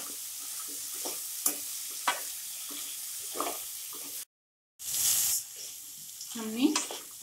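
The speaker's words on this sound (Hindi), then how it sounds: "सब्जियों को हमें कच्चापन दूर होने तक भूनना है" Potato, cauliflower, peas, beans, carrot, onion and ginger for khichdi are stir-fried in a kadhai, with repeated close scraping strokes over a soft sizzle, a brief silent break, then a burst of hiss and more scraping.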